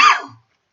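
One sharp, close cough that cuts off quickly into silence.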